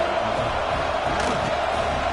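A football stadium crowd at a Michigan vs Tennessee game roars in a dense, steady wash just before kickoff, a broad sustained din with a few voices rising out of it.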